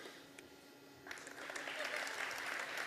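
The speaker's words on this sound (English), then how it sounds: "Thank you for the applause" Applause from an audience at a school annual day celebration, faint at first, then swelling into a steady crowd clapping.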